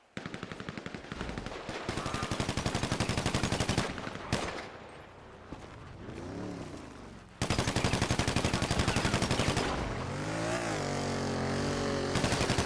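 Video game turf war gunfire: rapid bursts of automatic fire ripping in long, loud strings, with a brief lull where vehicle engine noise rises and falls before another sustained volley.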